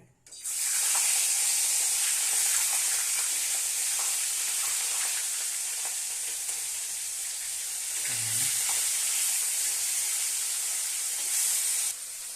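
Hilsa fish frying in hot mustard oil in a kadai, a steady loud sizzle running throughout with a brief low thump near the end.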